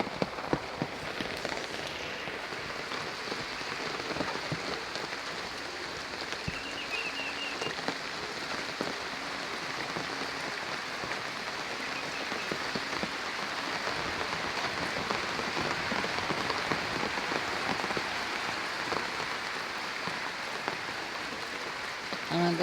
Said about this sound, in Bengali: কিবা বৃষ্টি, ঢালা বৃষ্টি